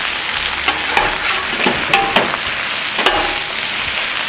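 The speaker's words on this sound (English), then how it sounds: "Flip this bacon." Bacon sizzles loudly and steadily on a Cuisinart 360 griddle for a skillet breakfast, a dense crackling hiss broken by several sharp spatula scrapes and clacks as the strips are flipped.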